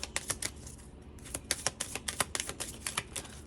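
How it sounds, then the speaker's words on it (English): Tarot cards being shuffled in quick, crisp riffling bursts, close up and fairly soft, with short pauses between the flurries of snapping card edges. "These are so fun to shuffle"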